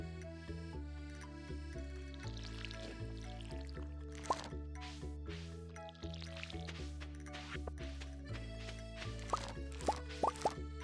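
Crops are watered in Stardew Valley: a series of soft plopping, dripping splashes sounds several times over cheerful game music, quiet and close.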